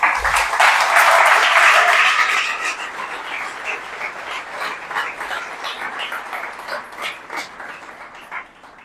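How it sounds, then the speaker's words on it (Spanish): Applause in a church service fills the start, a loud burst of clapping that fades after a few seconds into lighter scattered clapping and crowd noise. "Vamos a dar un aplauso al Señor."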